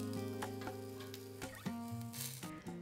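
Oiled vegetables sizzle on a barbecue grill in a continuous close crackle, with small ticks and pops scattered through it and no voices.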